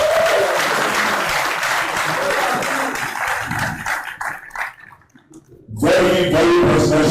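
A dense, loud burst of audience applause at a presidential candidate's press conference, steady clapping that briefly thins and drops away, then returns strongly at the end.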